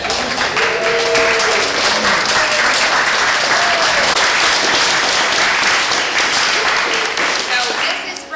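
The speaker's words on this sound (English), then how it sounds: "we can give them a round of applause" Loud, sustained applause from an audience honouring standing graduates at a school ceremony, a dense wash of clapping lasting several seconds, with a few voices audible at the start before it slowly tapers off.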